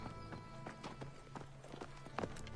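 Horse hooves clop in a quick, steady rhythm in Assassin's Creed III, faint and a little distant over low ambient background, with a brief whinny-like sound near the end.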